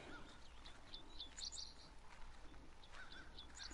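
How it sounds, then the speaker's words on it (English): Small songbird chirping outdoors in the woods during a wild turkey hunt, short repeated high tweets coming in bursts at a moderate distance over quiet background, with no talking. "Except this damn Tweety Bird."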